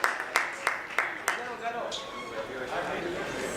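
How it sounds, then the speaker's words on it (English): Several sharp claps ring out at a scientific conference prize announcement, then a softer, denser patter of applause and crowd noise follows, with voices talking underneath. "Big round of applause to them."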